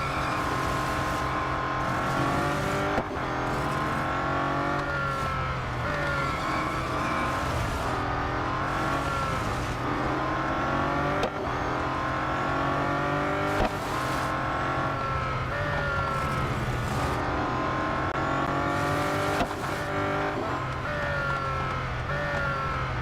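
Race cars in Real Racing 3 scream through gear changes and overtakes, engines rising and falling in repeated revving sweeps, loud and continuous with occasional sharp shifts, no voices.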